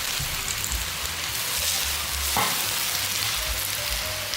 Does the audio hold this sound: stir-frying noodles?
yes